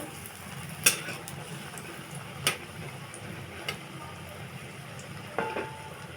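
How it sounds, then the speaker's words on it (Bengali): Quiet, continuous sizzle of drumstick flower, eggplant and coriander leaf fritters frying in oil, broken by a few sharp clicks and taps of a utensil against the pan. "এই যে ভাজা হচ্ছে, বাকিগুলো ভাজা হচ্ছে"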